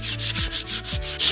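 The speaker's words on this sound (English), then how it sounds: "When we take our sandpaper and we go to sand, if you start sanding in the same direction of that grain" Sandpaper rubs back and forth along the grain of a small wooden picnic table in quick, even strokes, about six close, scratchy passes with no talking.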